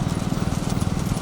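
Racing bulls pound along in a big-bull bullock cart race in Pudukkottai, a dense rumble of hooves and cart noise, loud and close, with a crowd wash behind.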